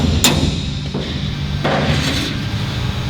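A hammer knocks a spot-welded wheel tub panel loose on a 1967-1969 Camaro: one sharp metallic strike near the start, then a couple of duller thuds over steady shop background noise.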